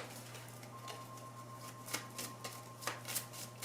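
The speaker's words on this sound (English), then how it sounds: "But I'm going to go ahead and pull a question card for you." Tarot cards are shuffled and drawn close up in a quiet room, giving soft riffling flicks and several sharp papery snaps over a faint, steady hum.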